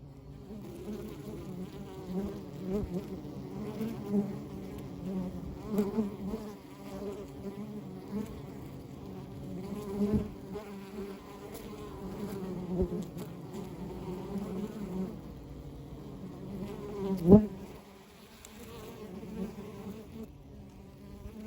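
Honeybees buzzing steadily around open hives during a summer hive inspection, a dense, continuous drone of many wings close by with a brief sharp knock partway through.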